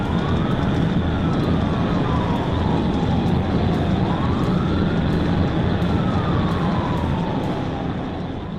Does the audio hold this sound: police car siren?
yes